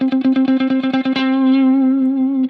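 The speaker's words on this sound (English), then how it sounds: "put my palm on top of the strings lightly" An electric guitar picks one note in about a dozen quick, lightly palm-muted strokes, each short and chunky, then lets the same note ring out clean and sustained for over a second before it is cut off.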